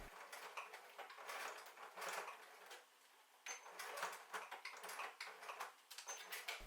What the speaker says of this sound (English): stitch vertically across the strap near the swivel clip to keep it from sliding around